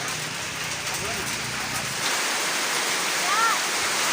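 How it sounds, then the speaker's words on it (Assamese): Steady, dense rain pours down in a constant broadband hiss, loud and continuous, with no pauses. "তো চাইকেল উলিয়াওঁতে লগালগ বৰষুণ আহি গ'ল। আৰু সেইটো এটা অলপ ডবল বৰষুণ।"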